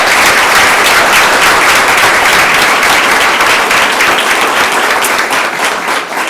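Loud, sustained applause from a large audience honoring tenure candidates, dense and steady throughout with no talking over it.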